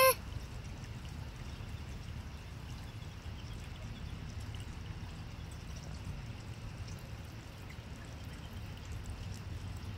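Water flows steadily out of an underground hole near a beaver's spot, a continuous low rushing trickle that holds at an even level throughout with no voices.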